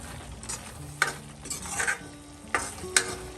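Onions frying in oil in a pan, with a soft steady sizzle under intermittent stirring scrapes and light clinks of the spoon, close and fairly quiet, with no talk.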